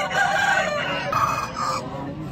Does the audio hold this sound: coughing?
no